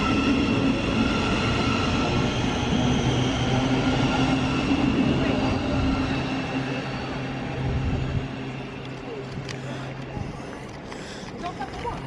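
Train noise at Luton Airport Parkway station, a steady rumble with rail hum and a low drone that eases slightly toward the end, with a faint voice in the background.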